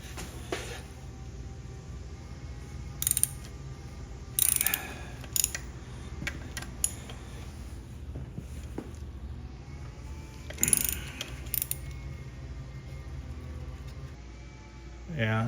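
Connecting rod caps being pulled off the pistons of a Ford F-150 engine during teardown, with sporadic close metallic clicks, clanks and ratcheting over a low steady hum, and no one talking.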